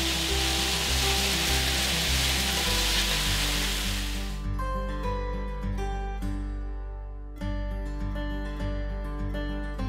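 Spicy pork bulgogi and vegetables sizzle loudly in a hot pan, a steady close frying hiss that fades partway as plucked background music continues.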